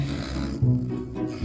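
A person snores loudly and close by in a bedroom, a rough, throaty rumble that swells and catches across one drawn-out breath.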